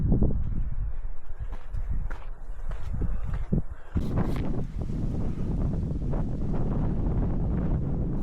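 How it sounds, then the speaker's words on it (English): Strong wind gusts buffet an exposed coastal walking track near Cape Farewell and the Aorere Goldfields, a loud continuous roar that surges sharply midway, with faint footsteps beneath. "The area is quite exposed to wind and the general elements."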